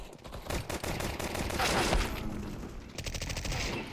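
Rapid bursts of 9 mm gunfire in a video game, crackling fusillades that fill most of the stretch, loud and close, with a dense volley at the end.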